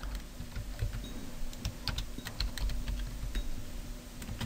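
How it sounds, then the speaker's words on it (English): Typing on a computer keyboard, a quick irregular run of crisp key clicks, close and fairly quiet, heard alone. "here we are going to type PowerPoint"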